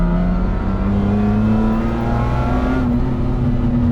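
A Lamborghini LM002 truck engine revs under throttle, a loud, close, continuous drone whose pitch climbs steadily and then briefly dips before rising again.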